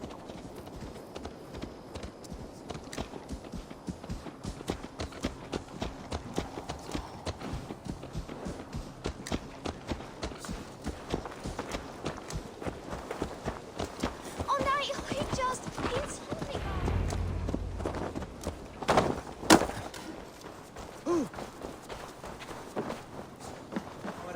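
Steady hoof clip-clops from a walking horse in Assassin's Creed Valhalla run under background music and game sounds, with a brief louder thud near the end.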